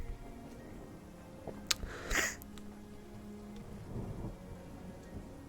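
Steady soft rainfall patters throughout, with a brief crackle of thunder and a few sharp splashy ticks near the start, all faint and distant.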